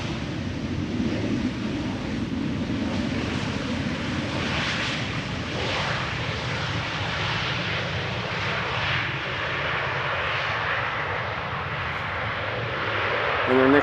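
A LOT Polish Airlines Embraer jet arriving at Amsterdam Schiphol Airport, a steady broad engine roar close by and sustained throughout, with soft wind noise mixed in.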